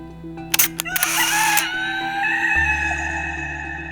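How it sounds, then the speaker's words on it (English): A rooster crows in a children's Bible story about Peter denying Jesus, a loud harmonic crow rising after a few sharp clicks and then trailing into a fainter held tone, with no talking. "The rooster crowed."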